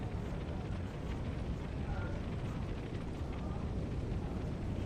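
Cannon and artillery fire in a Napoleon: Total War online battle: a dense, continuous booming rumble that holds steady and loud, with no clear breaks between individual shots.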